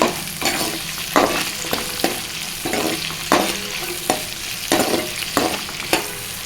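A spatula stirs spring onion and green chilli in a hot pan with steady sizzling frying, broken by regular scraping strokes roughly every half second, close and clear with no talking.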